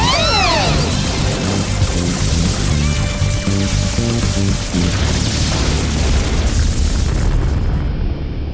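A cartoon micro missile storm gun firing, with loud continuous rumbling booms and explosions layered over whooshing and dramatic music, dense and unbroken throughout.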